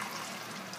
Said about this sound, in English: And then we're going to add in the distilled water.